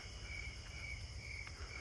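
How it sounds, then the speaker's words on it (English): A steady high-pitched trilling of snowy tree crickets continues without a break, pulsing slightly against a low, constant background hum. "There's more snowy tree crickets down this way."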